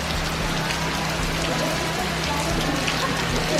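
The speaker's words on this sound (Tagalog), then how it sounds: "Guys, nabutan pa kami ng ulan." Steady rain falls outdoors in the Philippines, a dense even hiss of drops on surfaces that continues unbroken, close and moderately loud.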